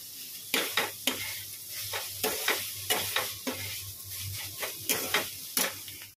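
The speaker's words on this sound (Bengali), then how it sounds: "দেখো এখানে পনির করবো বলে পনিরের আলুটা ভাজতে বসিয়ে দিয়েছে" Potatoes fry in a pan for a paneer curry, a steady close sizzle broken by about a dozen sharp scraping stir strokes at an uneven rhythm, with no talk.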